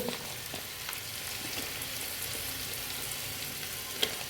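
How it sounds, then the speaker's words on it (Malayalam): Chicken masala powder frying in a pan for a pigeon pea thoran, giving a steady close sizzle with soft stirring scrapes and one brief clink near the end. "കുറച്ച് ചിക്കൻ മസാല പൊടി ഇട്ടിട്ട് നമുക്ക് ഇളക്കി കൊടുക്കാം"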